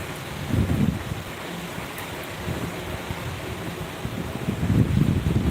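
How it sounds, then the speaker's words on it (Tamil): Rain falls during Cyclone Fengal as a steady, broadband hiss, with gusty swells that grow louder toward the end and some wind buffeting the microphone. "லைட்டாக மழை அப்படியே ஸ்பீடாகுது"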